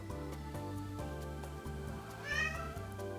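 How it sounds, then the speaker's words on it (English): A single short cat meow rises briefly over a steady background hum and soft rhythmic ticking, faint and close by. "Sorry, you might be able to hear my cat."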